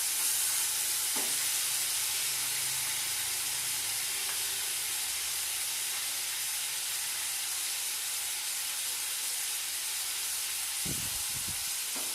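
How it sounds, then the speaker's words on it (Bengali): Small-cut chopped tomato fries in a hot pan, a steady loud hiss and sizzle lasting throughout, with a couple of faint knocks near the end and no talking. "এবার এতে টমেটো দেবো।"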